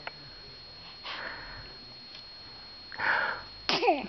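Sneeze in the morning, a short sniffing intake followed by a brief close burst, with faint breathy noises around it and no talking.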